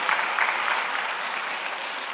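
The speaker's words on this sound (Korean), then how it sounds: "한 번 더 박수 쳐주시고" A church congregation applauds students during a Sunday worship service, steady dense clapping from many hands that holds evenly throughout, moderately loud and without talk.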